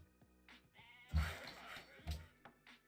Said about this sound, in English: Just put one turn into that sheep while we're here.